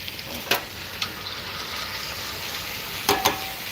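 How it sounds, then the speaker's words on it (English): Steak sears in a hot pan with a continuous, fairly loud hiss and crackle, broken by a few sharp clatters and pops. "It's supposed to sear."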